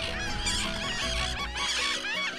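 Nesting common terns and Atlantic puffins on Eastern Egg Rock Island fill the air with a dense, continuous chorus of harsh, overlapping calls, close and loud, with no talk.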